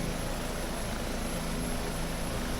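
A simulated helicopter in the X-Plane flight game, flying over London, gives off a steady, even drone of engine and rotor with no pauses or talking.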